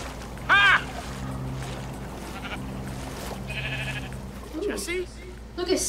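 Sheep in the video game Minecraft Story Mode bleat in a few short cries amid a game soundscape with a low steady hum and scattered effects.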